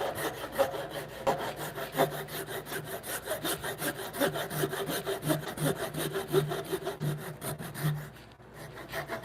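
Hand saw cutting timber shoulders on a timber-frame bunk bed, a steady rhythm of close, rasping push-pull strokes through wood that continues for several seconds before a short pause near the end.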